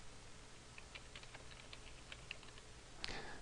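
Soft clicking from a computer keyboard as text is typed into an Excel 2010 spreadsheet, a faint, steady run of light taps ending in a slightly louder click.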